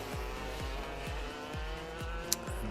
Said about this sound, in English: So the kart's out on circuit for their formation lap.